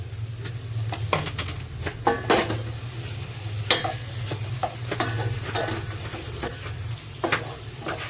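Prawn mince for homemade prawn momos cooks in a pan with a steady sizzle, broken by repeated clinks and scrapes of a spoon stirring it, close and fairly loud throughout.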